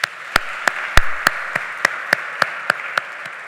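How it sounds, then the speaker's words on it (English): Conference audience at a closing keynote claps in a sparse, steady rhythm, about eleven distinct crisp claps over a few seconds rather than a full ovation. "Give yourselves a round of applause."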